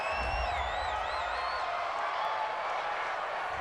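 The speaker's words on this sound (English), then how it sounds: "This home crowd, they're happy with that call." Home stadium crowd in Madden NFL 20, Cardinals at Vikings preseason, cheering a penalty call: a steady, distant roar of fans with scattered whoops and whistles, no clear talk on top.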